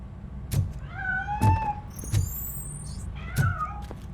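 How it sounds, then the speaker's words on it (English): A cat meows several times in the video game Robocop: Rogue City, each cry short and clear with rising and falling pitch, while a low rumble runs underneath. "That cat must be hiding inside."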